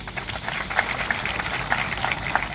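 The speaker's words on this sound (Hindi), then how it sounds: "आप करतल ध्वनि बजाएं, जोरदार तालियों" Applause from a crowd at a village ceremony for a new stadium, a steady dense wash of clapping with a few sharper claps standing out, continuous and moderately loud throughout.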